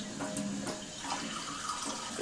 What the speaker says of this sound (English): we'll open the water, and that will send water through the water ionizer